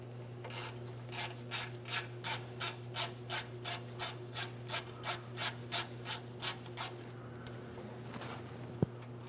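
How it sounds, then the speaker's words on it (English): A 6mm-headed hose clamp on the power steering reservoir hose of a 2004-2008 Ford F-150 being loosened with a tool, giving a close, even series of about fifteen short rasping ratchet clicks over a steady engine-bay hum, ending with a small tap. "We're going to start draining the power steering system by loosening this 6mm headed clamp."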